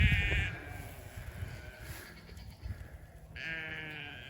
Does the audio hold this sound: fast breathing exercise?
no